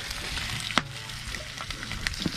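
Bacon frying in a pan, a steady soft sizzle with a sharp clatter partway through and a few faint crackles, close and continuous with no talking.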